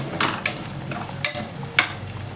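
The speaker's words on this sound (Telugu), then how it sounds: "వేయించుకున్న మసాలా వేసేద్దాం" Fried masala gravy is stirred in butter in a pan for restaurant-style butter chicken fry, giving a low, steady sizzle broken by several sharp spoon scrapes and clinks.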